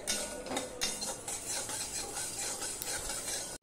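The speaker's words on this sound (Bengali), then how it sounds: "এবার গরম কড়াইতে আমি এগুলো একটু নেড়ে নেব" Mustard seeds being stirred in a hot wok, a continuous scraping and rattling of a utensil against the metal with faint crackle, close and moderately loud with no talk.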